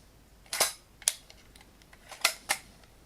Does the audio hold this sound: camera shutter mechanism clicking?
yes